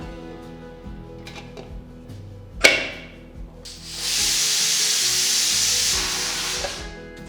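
A pressure cooker of tomato rice on a stovetop sharply releases steam, building into a steady, loud hiss that holds for several seconds after a brief puff and clank.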